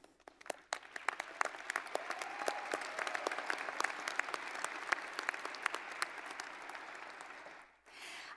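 An audience applauds at the Wright State University Boonshoft School of Medicine spring commencement ceremony: dense, steady clapping at moderate volume lasting about seven seconds, then cutting off abruptly near the end.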